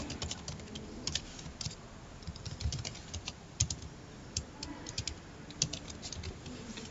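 Steady typing on a computer keyboard during a Python coding lesson, with quick irregular key clicks and a few louder spacebar or enter strikes over a low room hum.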